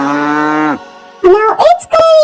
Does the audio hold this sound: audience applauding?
no